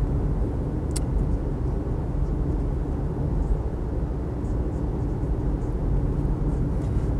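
A Mercedes 230TE automatic estate car drives along, its engine and road noise forming a steady low rumble inside the cabin with no voices over it.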